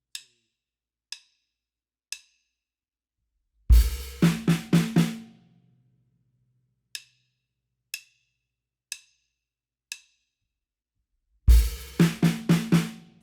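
Drum kit plays the intro groove of a song in isolation: sparse single hi-hat ticks spaced about a second apart, broken by two loud bursts of rapid bass drum and hi-hat hits, close and clear with no talking.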